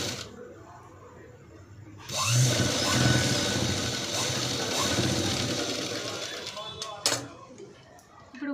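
Sewing machine stitching the lining side of a hooks kajal patti, the cloth left with extra margin for folding; a steady mechanical whirr runs close and fairly loud from about two seconds to seven, then stops.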